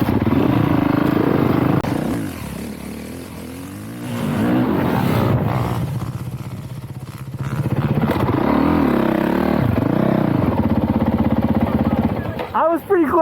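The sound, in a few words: motorcycle revving while pulling a wheelie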